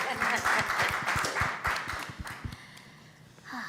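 Scattered audience applause at a women in entertainment panel, a light patter of many claps that thins out and fades over a few seconds, with no talk.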